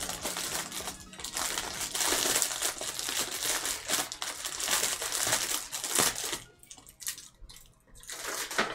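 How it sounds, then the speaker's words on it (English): Plastic packaging crinkling and rustling as a Cirno fumo plush is unboxed, a close, busy, continuous crackle of handled plastic with a few louder crunches and a brief quieter moment near the end. "We're gonna free her from her packaging."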